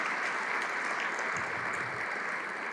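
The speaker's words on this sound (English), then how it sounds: "So just give them a round of applause." Audience applause at a State of the Province Address, a steady dense wash of clapping from a large crowd in a hall, sustained and even throughout.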